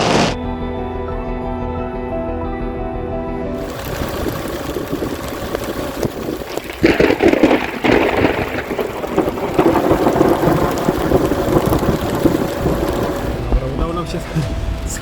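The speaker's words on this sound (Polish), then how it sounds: "Teraz zaczyna coraz bardziej zacinać. Główny rdzeń się na nas nasuwa." Heavy rain pours steadily through a severe supercell thunderstorm over the Lublin region of Poland, with loud, close thunder rumbling and cracking as the storm core moves overhead, and voices talking at times beneath the downpour.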